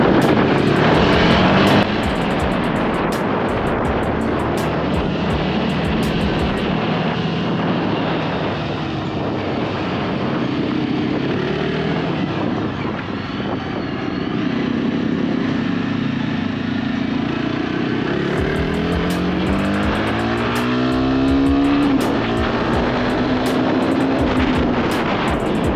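A Jawa Bobber 42 motorcycle engine drones steadily and loudly while riding on a road under construction, with a continuous rushing roar and rising, falling engine pitch as it accelerates.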